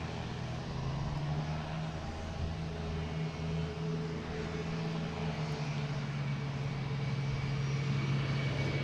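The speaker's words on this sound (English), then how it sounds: "we have Aer Lingus Shamrock heading to Dublin, A330-300. Taking off on 22 right" Aer Lingus Airbus A330-300 jet taking off from runway 22 right at Boston Logan, a steady distant engine roar with a sustained low drone, moderately faint and unbroken, no voices.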